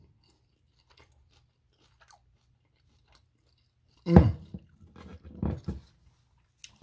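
Close, crunchy bites and chewing of Jamaican saltfish fritters after a quiet stretch, with a soft hum of enjoyment from the eater.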